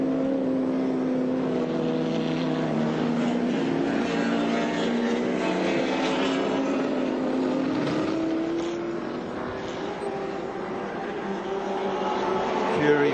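Touring cars race at Lakeside in the 1984 Australian Touring Car Championship, engines droning loudly with steady high-revving tones and gear-change shifts in pitch, continuous and close.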